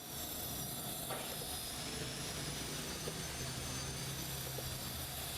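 A root blower running on an inverter at about 1400 RPM on 220 volts, a constant loud whooshing drone with steady mechanical hum throughout, no talking.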